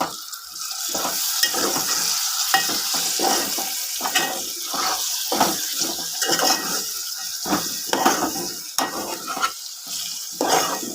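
Chicken and chopped tomato fry in a pan for chicken gongura, giving a steady sizzle broken by repeated scraping stirs and clinks of a spoon against the pan, close and fairly loud, with no talking.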